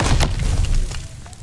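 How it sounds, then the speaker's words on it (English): Grenade blast in a first-person shooter match, a heavy low boom at the start that rumbles and fades over a second and a half. "Grenade."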